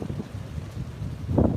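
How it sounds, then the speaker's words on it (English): Strong wind buffeting the microphone in uneven gusts, rumbling and roaring, growing louder toward the end with no one speaking. "Guys, it's so windy, the dumpster just blew down the street."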